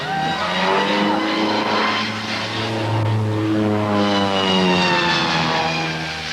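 A Moth propeller aircraft flies during an air rally, its engine a continuous loud droning hum with shifting pitch, close and steady throughout.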